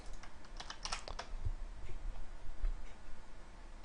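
Rapid, uneven clatter of keys on a computer keyboard, a quick burst of typing that thins into scattered taps, fairly close.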